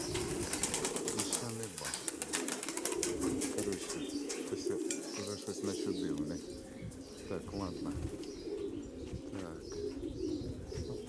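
Pigeons coo in soft repeated phrases close by, with fluttering wing flaps and light chirps mixed into a busy outdoor background while someone talks intermittently.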